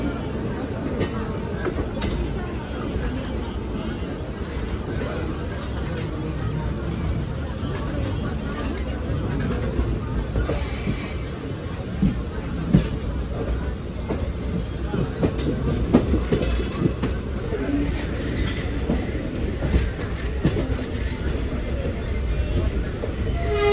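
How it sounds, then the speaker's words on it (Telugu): The Saptagiri Express running past MGR Chennai Central station, heard from aboard as a loud continuous rumble with wheel clatter, rail squeal and rattling carriages throughout. "ప్రజెంట్ మనం MGR Chennai central railway స్టేషన్ని right టైంకి అయితే క్రాస్ చేస్తున్నాం"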